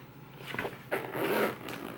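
A zipper on a Dooney & Bourke Disney Haunted Mansion 50th anniversary crossbody bag is pulled in a few short, raspy strokes, close up, with a longer zip near the middle.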